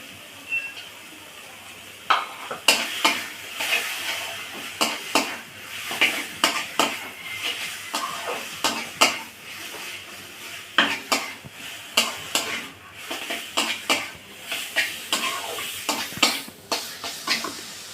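A spatula scrapes and clanks against a pan of frying taro greens with shrimp, giving repeated rhythmic stirring knocks over a soft steady sizzle, close and clear, with no talking.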